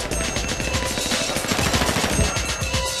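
A minigun fires nonstop in GTA V Online, a dense, loud, unbroken roar of rapid gunfire that runs the whole stretch without letting up.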